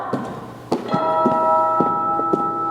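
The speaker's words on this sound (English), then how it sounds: "Ring the bell!" A bell rings with a sustained, resonant tone during a high school drama club's stage performance of Macbeth, accompanied by several dull thumps and knocks on stage.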